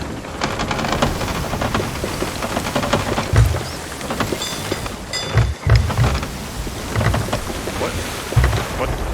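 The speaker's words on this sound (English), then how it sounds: "I don't even know where the storm ends though" Steady rainstorm in a sailing video game, a constant dense hiss of rain with low rumbling surges, loud and continuous, with a few brief louder thumps throughout.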